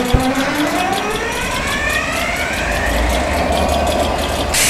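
Class 67 diesel locomotive engine starting up in the Train Simulator (Railworks) game, a loud mechanical rumble with rising whining tones as the engine spools up and settles, ending in a brief hissing burst.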